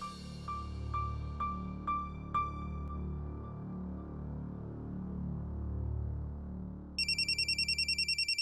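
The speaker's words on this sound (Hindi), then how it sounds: "आस्था का फोन है" A phone ringtone chimes several times in a repeating melodic pattern, then a brighter rapid electronic ring starts near the end, over a low steady hum.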